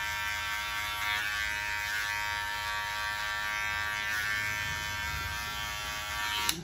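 An electric hair clipper buzzes continuously at close range during a skin fade haircut, a steady high-pitched whine that holds at an even level throughout.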